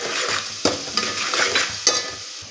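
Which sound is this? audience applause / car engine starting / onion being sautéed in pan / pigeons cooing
onion being sautéed in pan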